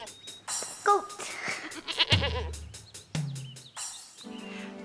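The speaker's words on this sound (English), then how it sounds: "Goat." A goat bleats in several short, wavering calls scattered among other farm-animal sounds and musical backing, moderately loud and close.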